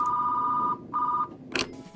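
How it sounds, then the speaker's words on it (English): An old-fashioned telephone bell rings in two loud, close bursts with a short pause between, followed by a brief clatter. "But using a old school telephone"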